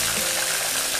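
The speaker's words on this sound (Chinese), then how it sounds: "鱼全部下锅了，咱们先不着急动它啊，让每一块鱼都均匀的有油来" Pieces of fish sizzle in oil in a crowded pan in a short, close burst of steady frying.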